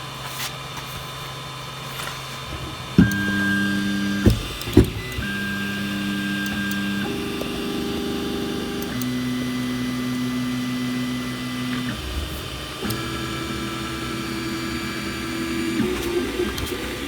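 An Ender-3 3D printer runs its test print as stepper motors whine in shifting sustained tones, changing pitch with each move, punctuated by a few clicks and knocks, close and alone without talk.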